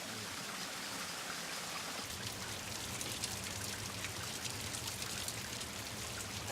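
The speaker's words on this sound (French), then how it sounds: "L'eau des cascades est la bienvenue sous cette chaleur." Waterfall water in hot jungle country near a lost city rushes in a continuous, broadband wash, close and fairly loud, with no voices over it.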